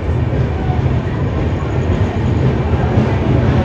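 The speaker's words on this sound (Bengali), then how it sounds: "কিন্তু ট্রেন এই যে কটক স্টেশন পেরোচ্ছে" A train rolls through Cuttack station late at night, a steady, loud broadband rumble with low wheel and carriage noise running unbroken throughout.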